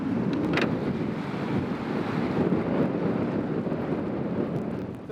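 Steady wind buffets the microphone while fishing from a boat on a river for steelhead, trout, salmon and shad. It is a continuous loud rumble with a faint watery wash and no talk.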